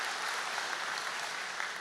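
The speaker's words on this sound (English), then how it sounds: "round of applause for that" An audience at a speaker event claps in a brief, dense, even wash of applause, heard from a distance and fairly faint, with no talking over it.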